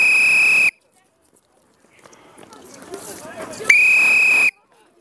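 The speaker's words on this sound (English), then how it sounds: "then I'll blow the whistle and the other boy goes" A coach at a youth football coaching drill blows two loud, sustained whistle blasts outdoors, the first cutting off and a second following after a few seconds of quiet field noise and movement.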